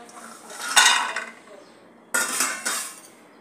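Cashews and almonds stirred in a metal pan while roasting, giving two bursts of rattling, clinking scrapes separated by a quiet pause, close and fairly loud.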